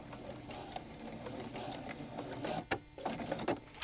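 A sewing machine stitches along the side of a fabric flag in a quiet room, with a soft, rapid mechanical whirring in short bursts and a few clicks between runs.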